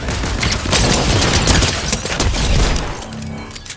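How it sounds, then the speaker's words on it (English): Rapid gunfire in the battle-royale shooter Fortnite, a dense, loud barrage of overlapping shots and impacts for about three seconds, then thinning out. "Some sort of gun."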